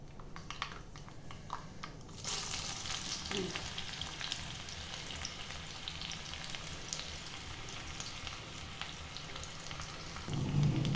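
Finely chopped onions sizzle in hot oil for a Tamil-style murungai keerai curry, a steady close crackling hiss that swells louder near the end.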